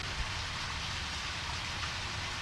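Steady, dense rain in the video game Deadly Premonition Origins, a constant hiss of falling drops with no other sounds.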